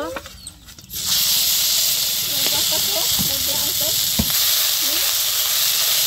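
Whole cumin and a ground onion-garlic paste hit hot oil in a pan for a Bengali pangas fish curry with bottle gourd, setting off a loud, steady hiss after a short quieter opening, with a few faint clinks and knocks beneath it.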